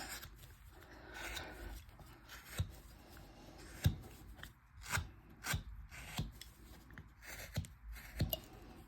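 A blade carves a wooden bust to remove bandsaw marks, giving a series of short, close scraping and chopping strokes in an irregular rhythm, fairly quiet with soft rubbing between the cuts.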